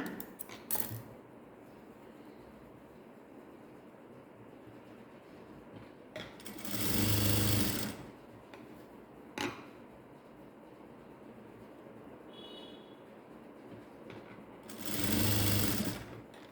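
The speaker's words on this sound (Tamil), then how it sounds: "ஒரு ஃபோல்ட் பண்ணி ஒரு தையல் போட்டுடுங்க" A sewing machine runs in two short bursts several seconds apart while stitching a folded quarter-inch hem on a straight ladies' pant, loud and close, with quiet pauses and small handling clicks between.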